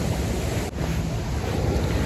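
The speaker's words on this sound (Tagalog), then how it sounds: "Yun o, laki ng alon, no?" Ocean surf rumbles steadily on a beach in Mexico, mixed with heavy wind buffeting the microphone. There is no talking.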